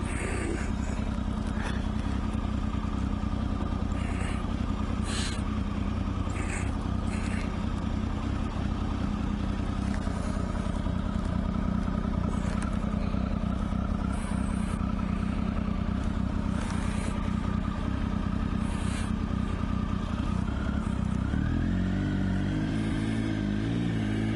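Triumph Tiger 955i motorcycle riding on a road, its engine droning steadily and close throughout with wind rush, settling into a lower idle-like rumble near the end.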